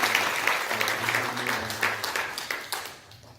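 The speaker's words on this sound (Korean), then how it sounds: "격려의 박수 하나님 앞에 보내드리겠습니다" A church congregation in Hanoi claps together in welcome, a dense, steady burst of many hands filling the sanctuary, with a low hum beneath, then thinning and fading toward the end.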